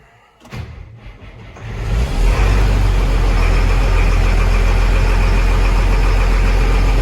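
A Case CVX tractor engine cranks and restarts after a short quiet moment, then settles into a loud, steady diesel idle that runs close by with no talking.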